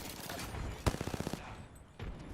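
A rapid burst of about seven or eight automatic gunshots from Apex Legends rattles off in an even rhythm after one louder opening shot, fairly close and clear, with a later muffled thump.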